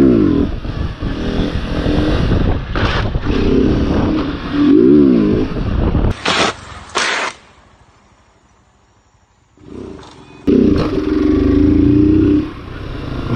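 A Honda Start 160 motorcycle's tail drags on the road, giving loud grinding scrapes mixed with engine revving. Two sharp high bursts come midway, followed by a near-silent gap before the engine and scraping roar back.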